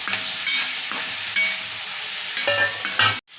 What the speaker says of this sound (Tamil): இப்போ தக்காளியோடு சேர்த்துட்டு இன்னொரு ஃபைவ் மினிட்ஸுக்கு வதங்கிக்கலாம்